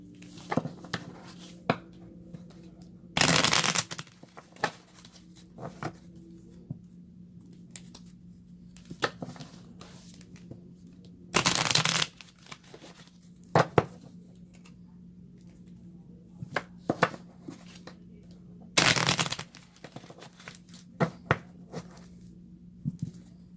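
Tarot cards shuffled in several short bursts of crisp riffling, separated by quieter pauses with light handling clicks and taps.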